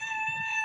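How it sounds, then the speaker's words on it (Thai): A young Vietnamese Tan Jo rooster crowing in one brief, sustained, loud call. "หอนไก่ตีเลยเนาะตัวนี้"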